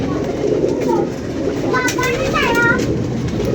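Pigeons coo softly at a loft of old purebred birds, their low calls blending with a steady background hum while someone talks nearby.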